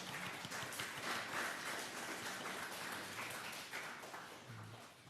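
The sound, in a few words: congregation applauding in church to welcome attendees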